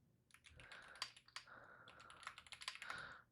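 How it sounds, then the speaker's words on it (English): Fingers type on a computer keyboard in quick, uneven bursts of close, crisp key clicks, with a short pause partway through and no voice over them. "Why am I typing, by the way?"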